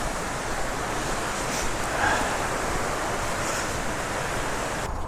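A river on Dartmoor rushes close by, a broad steady flow of water noise at constant loudness with faint wind buffeting, no voices.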